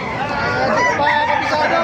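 An 8-month-old Sinibalang gamefowl rooster crows in one loud, drawn-out call, close and prominent over a busy market-like background.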